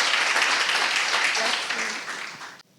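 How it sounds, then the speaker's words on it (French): Conference audience applauding a speaker after an AI creativity talk, a dense burst of clapping that fades out quickly. "Vous pouvez l'applaudir."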